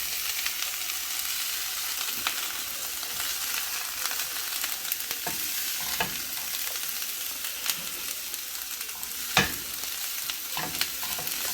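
Cabbage sizzles and softens in a pan on low heat for an easy naked chicken eggroll, a steady soft frying hiss broken by occasional stirring scrapes and light clicks, with no talking.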